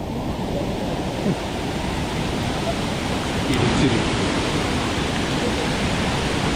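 A fast-flowing monsoon stream at a water crossing on the Netravathi peak trek in Chikmagalur rushes steadily and loudly as a broad, constant wash of noise, with no talk heard.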